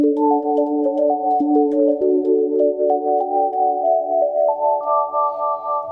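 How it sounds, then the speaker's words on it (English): A Vongon Replay synthesizer plays clean, pure sine-wave tones, a smooth sequence of steady overlapping notes stepping gradually upward, loud and alone with no other sounds. "Separately, I love that we have a sine wave."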